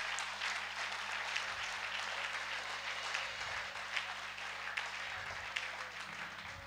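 Applause from a church congregation at a French-language religious gathering, a steady wash of many hands clapping throughout, fairly distant and even with a few sharper claps standing out.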